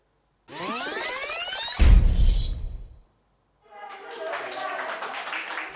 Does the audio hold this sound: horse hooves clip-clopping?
no